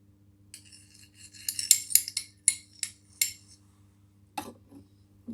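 Kalakand being pressed into a ghee-greased tray, a run of small scraping taps and metallic clinks of a utensil against the tray, close and fairly quiet, ending with a few softer knocks.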